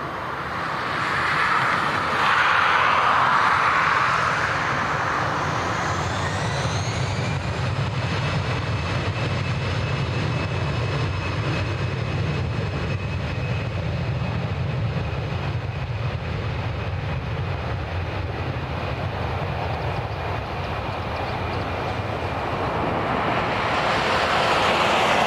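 A jet airliner rolls and climbs away on takeoff from runway 10 right at Dublin Airport, a steady broad engine roar that swells and holds for many seconds, heard from a distance.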